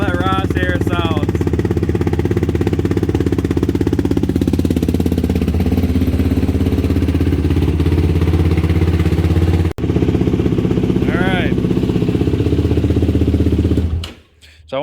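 A 2023 Yamaha YFZ ATV fitted with a Vortex ECU idles steadily while warming up, a loud, close, continuous engine rumble that briefly dips near the end, with someone talking over it.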